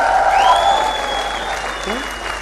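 An audience at a training seminar claps in a steady, dense wash of applause that fills the room throughout, with a speaker's voice and whistling tones riding over it.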